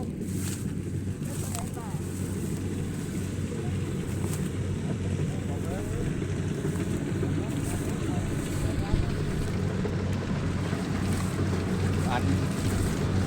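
Combine harvester engine working in a rice field, a steady loud low drone with wind noise over the microphone and voices talking throughout.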